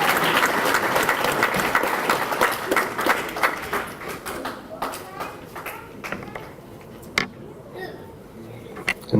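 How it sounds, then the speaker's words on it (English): A banquet crowd claps for a scholarship recipient at an annual memorial awards dinner, loud sustained applause that thins and tapers into scattered individual claps toward the end. "Give Jordan a round of applause, please"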